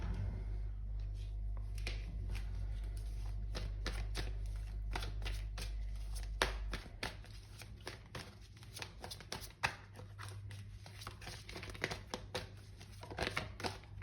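Tarot cards being shuffled by hand, a continuous run of quick papery riffles and crinkly flicks, close and fairly quiet, with a low hum beneath.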